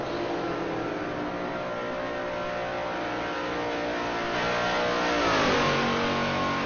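The engine of a Dodge Dart race car in a historic Trans Am racing game at the Indianapolis GP course drones in a steady harmonic whine and then swells louder as it revs up near the end, with no voices over it.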